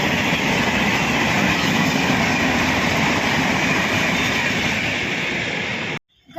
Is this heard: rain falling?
no